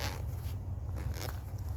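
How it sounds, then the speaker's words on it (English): Zipper on the side of a tactical iPad vest for drone work being pulled open, a steady rasping run of teeth lasting nearly two seconds, close and fairly loud, with no speech. "Basically it has a zipper on each side."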